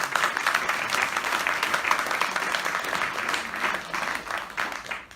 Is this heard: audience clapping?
yes